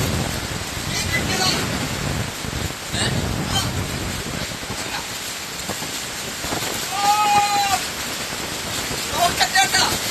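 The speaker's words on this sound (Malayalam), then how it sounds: "മഴയും കാറ്റും" Rain and wind outdoors, a dense, steady hiss of falling rain with gusty wind noise buffeting close by, while people talk over it intermittently.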